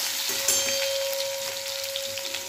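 Crushed garlic cloves hitting hot oil already crackling with cumin and mustard seeds, a steady close sizzle with small pops and a faint continuous hum running underneath.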